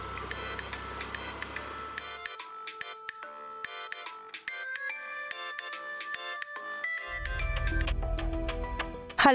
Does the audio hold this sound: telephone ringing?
yes